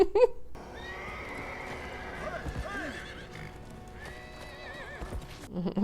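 Horses whinny repeatedly with rising and falling cries over clopping hooves and a busy background, from the film The Lord of the Rings: The Return of the King, all sounding like a film soundtrack.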